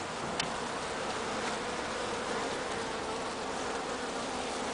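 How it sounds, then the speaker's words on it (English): Many bees from a newly installed hive, set up in a makeshift temporary arrangement, buzz continuously and steadily at close range, a dense drone with no talking. "Here's the baby bees."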